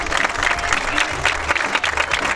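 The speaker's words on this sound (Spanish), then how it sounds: "¡Fuerte el aplauso, vamos!" A dense, continuous round of clapping rises from spectators at a local league football final as youth teams are presented, loud and unbroken throughout.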